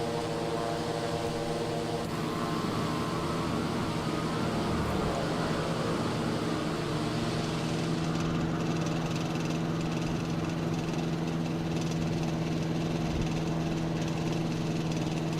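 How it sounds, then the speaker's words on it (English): Steady droning engine rattle of a Eurofly Twinfox light aircraft in Microsoft Flight Simulator, a continuous buzzing hum with no pauses throughout. "Listen to that engine rattle."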